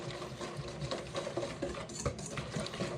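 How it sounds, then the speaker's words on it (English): Milk whisked into a creme brulee mixture flavoured with Irish cream: a quick, busy rhythm of whisk wires ticking against a bowl, close but quiet, with no talk. "You want to whisk the whole time."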